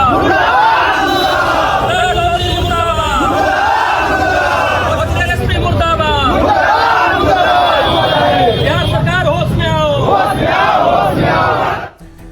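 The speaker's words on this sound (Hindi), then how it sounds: "भरत तिवारी के हक में लोग सड़कों पर उतरे, प्रदर्शन कर रहे हैं।" Crowd of protesters out on a street in Arrah, Bihar, shouting and chanting slogans loudly and continuously, many voices massed together with rhythmic rises, close and dense before cutting off at the end.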